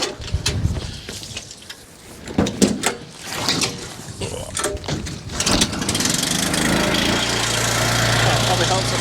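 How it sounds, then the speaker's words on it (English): A pressure cleaner's engine starts up and runs steadily in the background, a constant low drone that builds after a stretch of talking and clattering, with voices heard over it. "hopefully our pressure cleaner's got the right pressure"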